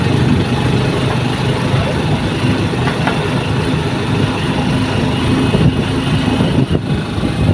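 Motorcycle engine pulling steadily up a slope, a continuous low drone with road and wind noise throughout, close and loud with no talk over it.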